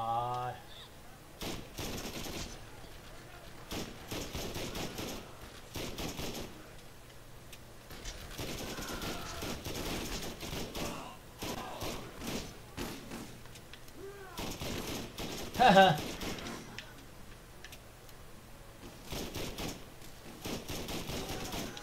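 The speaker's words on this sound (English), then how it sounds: "now who's shooting at me?" Enemies fire at the player in Borderlands with scattered, fairly quiet gunshots and short bursts, irregular and somewhat distant. A single sharper burst stands out near the middle, and a person talks at times in between.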